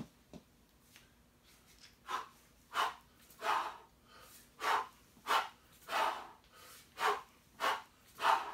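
Rhythmic breathing during kettlebell snatch, a series of about eleven forceful exhales at a steady pace, close to the mic with quiet gaps between each breath.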